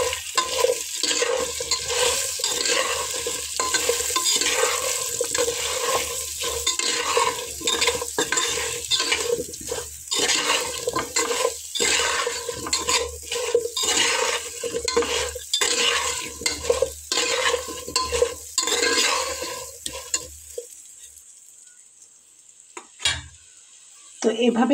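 Potato pieces seasoned with salt and turmeric fry in a pan under constant loud sizzling, with brisk, repeated scraping strokes of a spatula that stop near the end, leaving a short quiet gap.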